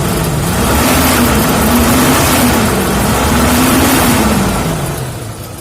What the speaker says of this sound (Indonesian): ini posisi mesin sudah hidup